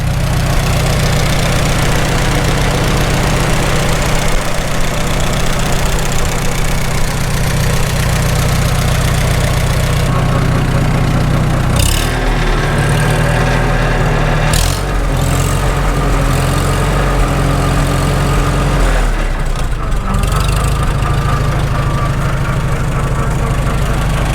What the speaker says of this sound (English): That's that whir, whir, whir, whir you hear.